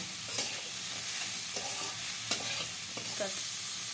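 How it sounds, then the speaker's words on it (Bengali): Potato pieces coated in turmeric powder and salt fry in a pan with a continuous soft sizzle, broken by several sharp scrapes and clinks of a spatula stirring them. "মিশিয়ে নিয়ে আলুগুলোকে আমি ভেজে নেব।"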